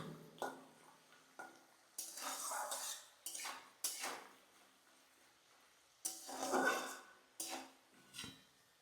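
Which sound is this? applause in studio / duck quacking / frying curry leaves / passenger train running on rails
frying curry leaves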